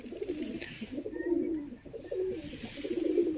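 A male pigeon coos softly and repeatedly at close range, low throaty rolling calls in a quiet setting with no talking.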